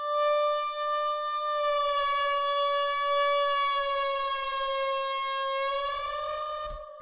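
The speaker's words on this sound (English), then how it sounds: "So I'm going to open up the Blood Overdrive, and I'm going to turn up the preamp, and I'm going to turn down the post gain." A sustained synth tone in FL Studio, distorted with a Blood Overdrive plugin, holds a bright, buzzy, harmonic-rich note steadily for several seconds, loud and alone, with slight pitch wavering near the end.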